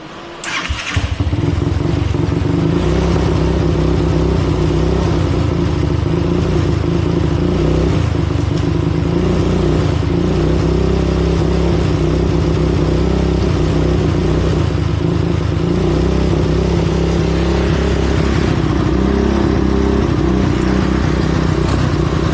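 A Tao Tao YFZ250 ATV with a replaced kill switch and its timing still off starts and runs loudly and continuously, with a steady rough idle broken by bursts of throttle and revving close by.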